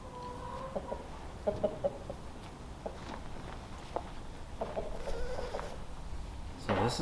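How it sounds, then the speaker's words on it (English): A rooster clucks and gives short calls near a goat kid on a farm. Footsteps shuffle and faint rustling continues underneath, with scattered bird sounds throughout. "That rooster is not your mama."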